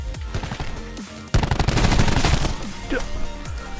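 DMR rifle fire in a first-person shooter match, a loud burst of rapid shots in the middle after a quieter stretch, with sparse game effects and faint talk around it.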